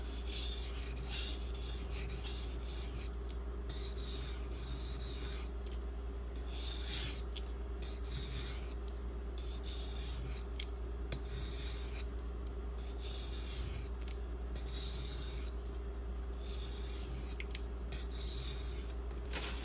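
Spyderco Smock knife drawn across a Sigma Select II whetstone for finishing passes, a soft rhythmic rasping of steel on stone repeating in even strokes over a constant low background hum.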